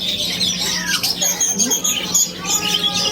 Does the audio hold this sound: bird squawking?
yes